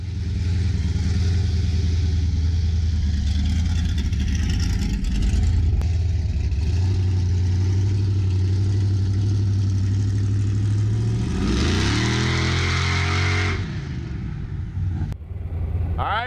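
A 1973 Plymouth Road Runner's engine runs steadily at a low, close rumble, then revs up briefly before settling back; no one speaks over it.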